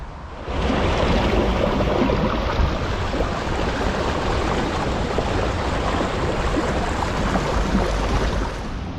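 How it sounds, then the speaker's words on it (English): A small waterfall on a river in a city's historic zone gives a steady, loud rush of falling water, broadband and unbroken for several seconds, with no voices. "just above the little waterfall on the river"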